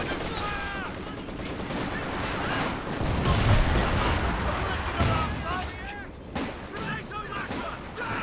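Machine gun fire from an MG34 in the strategy game Company of Heroes 2, with bursts dense amid a constant din of battle, explosions and other gunfire, while someone commentates over it.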